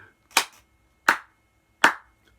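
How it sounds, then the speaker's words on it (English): A single person claps three times, slow and evenly spaced, sharp and close, in an otherwise quiet room with no voices. "Round of applause to you, woman."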